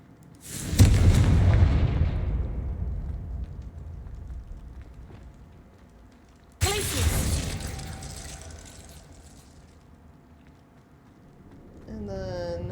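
Two booming blasts of the Confringo explosion spell in the video game Hogwarts Legacy, each a sharp loud burst that rumbles and decays over several seconds, with a brief magical shimmer at the end.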